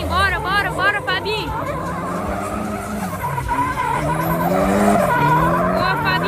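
Drift car skidding with loud, sustained tire squeal at a Brazilian drift championship round, the screech sweeping up and down over engine roar and crowd babble, continuous and close throughout.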